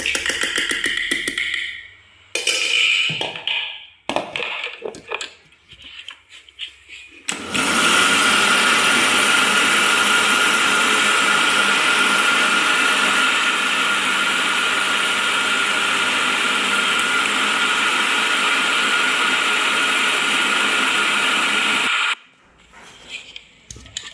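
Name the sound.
mixer grinder blending dosa batter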